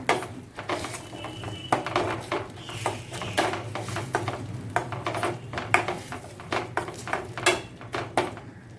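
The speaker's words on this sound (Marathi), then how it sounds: "चांगला असा मसाला परतून घ्यायचा आहे" Masala being stirred and sautéed in a pan for a bhogichi bhaji, with repeated sharp scrapes and clinks of a spoon against metal at an irregular, busy rhythm, close and fairly quiet.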